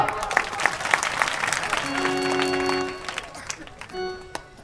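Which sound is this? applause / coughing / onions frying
applause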